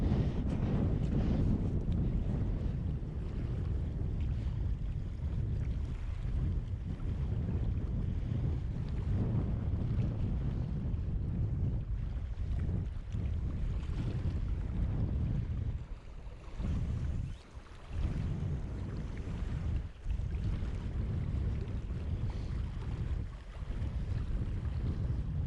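Blustery autumn wind blows outdoors beside a Scottish loch, buffeting the microphone in a loud, continuous roar with gusts that surge and briefly drop away near the end.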